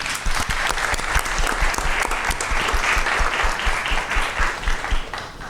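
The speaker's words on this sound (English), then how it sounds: "Round of applause for Mitza Molina." Loud, dense applause from an audience at a school district governing board meeting, a steady burst of many hands clapping close by throughout.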